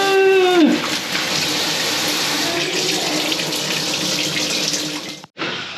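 Hot water gushes steadily from a bathroom tap, a loud continuous rush with a brief squeak as it opens, cutting off near the end then resuming.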